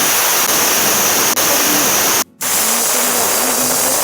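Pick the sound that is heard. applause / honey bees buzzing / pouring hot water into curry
pouring hot water into curry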